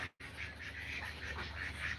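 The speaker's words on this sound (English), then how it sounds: "And the ducks." Ducks quacking repeatedly at moderate distance over a steady outdoor background hiss, calls running continuously after a brief silent gap at the start.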